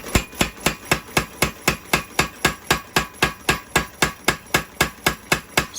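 Steady, rapid hammer blows on hot steel as a knife tang is forged and tapered on an anvil, about three ringing strikes per second, close and loud with no talking.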